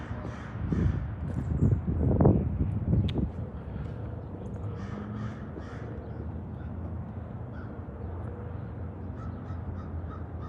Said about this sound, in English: Something's got the crows fired up today.